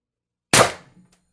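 A single sharp report from an Umarex TR50 HPA air rifle, fired close by, with a short decaying tail and no talking.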